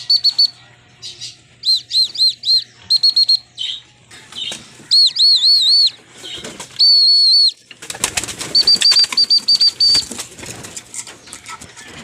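A racing pigeon arrives at the loft amid close, loud wing flaps and bursts of bird chirping and calls, with irregular rustling between them.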